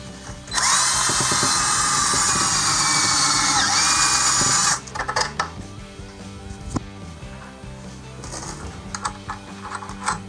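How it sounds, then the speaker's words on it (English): A power drill whines loudly for several seconds drilling holes for bolts on a boat, then stops, followed by scattered clanks and handling noises. "And then I'm going to drill holes through all of these."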